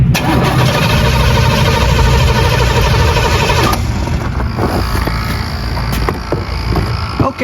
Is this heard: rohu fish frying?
no